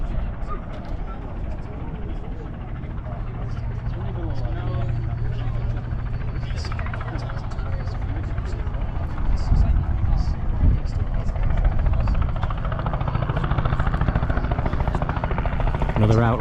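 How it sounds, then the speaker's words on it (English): A helicopter filming the Tour of Britain cycle race hovers overhead with a steady, loud rotor drone throughout, and voices talk beneath it along the roadside. "You might be able to see and hear the helicopter, which I'm assuming is filming the race."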